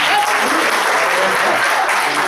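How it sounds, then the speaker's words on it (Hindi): Audience applause fills a hall in a loud, dense burst of clapping that carries on without pause for a couple of seconds. "एक बार इन लड़कों के लिए तालियां"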